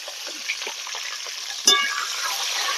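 Cut potatoes fry with a little salt in a hot pan, a soft steady sizzle with a few light stirring taps and one sharp clink near the end.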